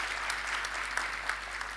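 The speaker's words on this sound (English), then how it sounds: "give him a round of applause" A graduation audience applauds an honoured guest, steady dense clapping filling the hall, moderately loud and uninterrupted for a short stretch.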